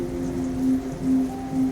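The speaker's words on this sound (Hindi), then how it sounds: "बस सिर्फ बारिश की बूंदों की सरसर टप टप आवाज ही सुनाई देती है।" Heavy rain patters in the dark night as a steady hiss of falling drops, with a low sustained tone swelling and fading beneath it.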